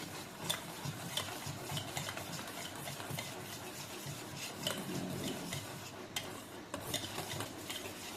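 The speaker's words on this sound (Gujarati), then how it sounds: "હવે એને એકદમ મિક્સ કરી દઈએ આપણે આ રીતે" Homemade cake batter mixed with milk, stirred steadily in a bowl, producing a continuous soft scraping and sloshing with light clinks, fairly quiet and without talk.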